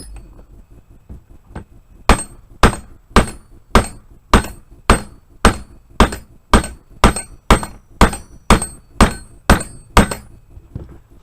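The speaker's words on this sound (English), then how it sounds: "Give it a couple more whacks" A hammer strikes a stubborn pin in an SKS rifle, about seventeen hard, sharp metallic blows in a steady rhythm roughly every half second, loud and close, starting after a couple of softer taps, with no speech.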